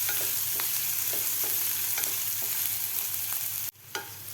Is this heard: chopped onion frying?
yes